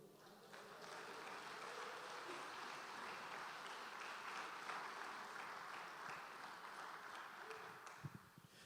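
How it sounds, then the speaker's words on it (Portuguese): A church congregation applauds during an evangelical sermon on Christian marriage. The clapping is soft and distant and holds steady as a continuous wash of applause throughout. "você pode aplaudir o Senhor Jesus?"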